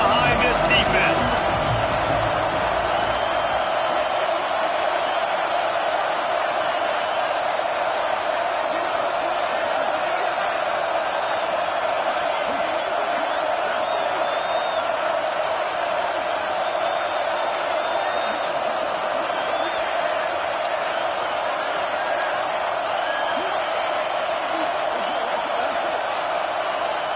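A stadium crowd at a college football game between Texas and Florida roars for the defense on a big third down. The dense, sustained roar runs throughout while a commentator talks over it.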